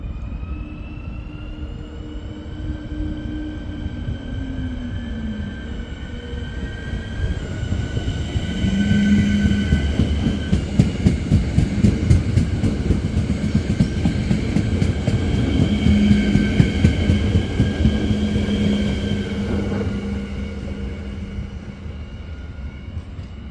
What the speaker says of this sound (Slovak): Tak to by bol teda osobný vlak do Liptovského Mikuláša, ktorý sa nám tu takto pekne naskytol.